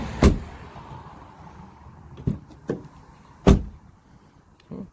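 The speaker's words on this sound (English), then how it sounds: "let's see if this door's closed with that stripping away." Car door shut repeatedly after weatherstripping is fitted to reduce wind noise: four or five separate solid thumps, close and loud, spaced over a few seconds with quiet in between.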